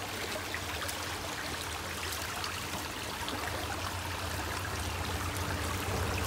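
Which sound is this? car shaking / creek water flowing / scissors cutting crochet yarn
creek water flowing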